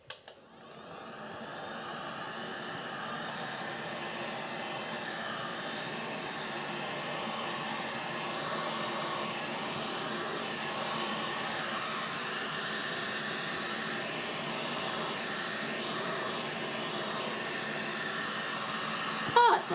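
Heat gun shrink-wrapping soap with a shrinkwrap system, giving a steady loud blowing hiss like a hair dryer that runs unbroken for about twenty seconds after a short start-up click, with no talk over it.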